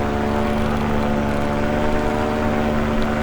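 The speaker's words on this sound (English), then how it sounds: "Alright, one more quick flyby." A small propeller aircraft on a flyby in calm, smooth air, heard as a loud, steady engine drone with a constant buzzing tone throughout and no talk.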